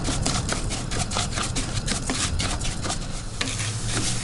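About a pound of rice toasts in a pan for a red rice dish, stirred continuously with a dense scraping, rustling shuffle and light sizzle, loud and close with a steady rhythm.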